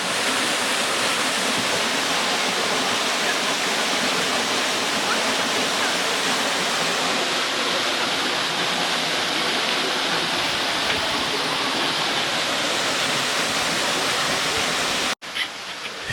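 Steady, loud rush of the Sitakund waterfall in Odisha, a clear-water pool where people bathe, pouring continuously and close by before cutting out abruptly near the end.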